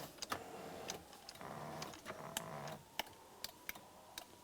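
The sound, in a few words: 2000-2006 Chevrolet Tahoe driver's seat switch being tested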